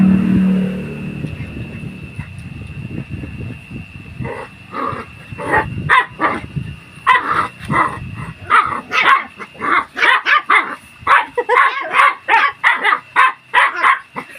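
Several puppies bark and yip excitedly in quick bursts while playing, growing busier and louder over time, close by with a steady high hum in the background.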